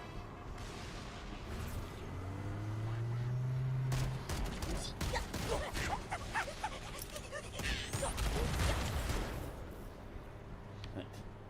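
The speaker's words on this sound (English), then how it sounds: "Who is shooting me?" Gunfire crackles in Halo: Combat Evolved Anniversary, scattered bursts of sharp shots mixed with game effects and a voice talking over them, growing busier midway through.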